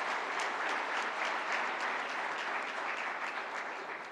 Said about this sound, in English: Let's give a round of applause for those.